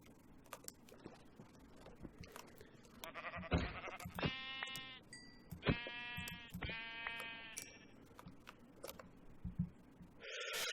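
Sheep in a Minecraft modpack game bleat several times in quick succession, sharp nasal cries standing out over soft keyboard and mouse clicks, with a brief louder game sound at the end.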